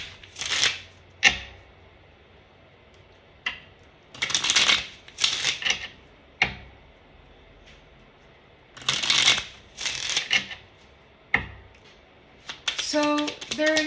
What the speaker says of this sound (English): I'll pull from these little cards real quick.